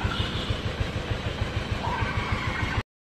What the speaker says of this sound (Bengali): এখন এই যে ট্রেন চলা শুরু হলো, যে ট্রেনে করে আমাদের নিয়ে যাচ্ছে